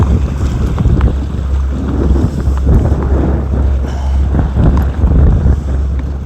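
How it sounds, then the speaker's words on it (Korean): Strong wind roars at sea aboard a fishing boat. Loud, continuous gusts buffet the microphone, and the rumble of water and hull sounds lies beneath. "바람이 갈수록 세집니다, 지금."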